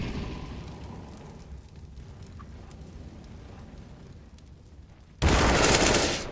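Gunfire in Counter-Strike: Global Offensive: a low rumbling din of game sound, then a sudden loud, dense burst of shots near the end that drowns everything else.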